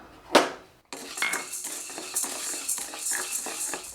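Sago pearls are dry-roasted in an empty pan for moong dal payasam, a loud clank first, then a close, continuous rattling scrape of spoon and grains as they are stirred.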